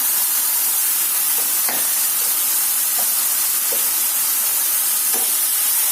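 Potatoes and moringa leaves fry in a pan, giving a steady close sizzle and hiss throughout, with a few faint stirring knocks and no voices.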